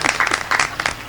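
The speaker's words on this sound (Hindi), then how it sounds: "तुम सुनना और तुम ताली भी बजाना" Brief scattered clapping from an audience at a Hindi comic poetry gathering, a handful of distinct sharp claps in just over a second, fairly close.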